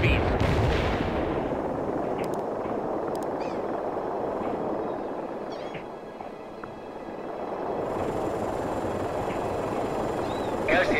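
Continuous artillery fire and gunfire rumble through a battle in World in Conflict, with booming impacts and crackling shots layered densely at steady loudness throughout.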